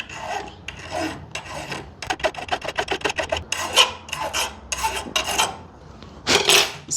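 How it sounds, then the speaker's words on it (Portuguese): Rapid rasping strokes of sandpaper over a car key, held steady with a wire from underneath; bursts of quick back-and-forth rubbing come close and fairly loud with short pauses between them, no voices. "firme ele do outro lado e pode lixar, ó."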